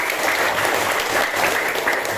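Students in a seventh-grade classroom clap together in steady, dense applause that holds for the whole moment, close and fairly loud with no talk over it.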